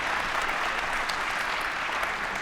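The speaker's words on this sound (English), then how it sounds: "Give them a round of applause." Steady, even applause from the crowd at a youth female recurve archery final, a continuous dense wash of clapping holding at moderate distance throughout, with no voices rising above it.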